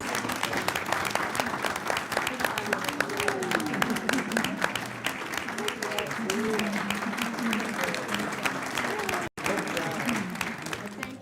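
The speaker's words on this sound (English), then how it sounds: "Let's give them another round of applause." An audience applauds at a school district gathering, a dense, continuous wash of clapping lasting about eleven seconds, with voices mixed in.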